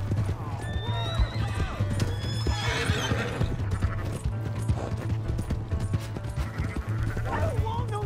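Horse neighing and clip-clopping hooves in the Red Dead Redemption 2 video game, with whinnies near the start and end over a steady low hum and busy game sounds, while voices talk over it.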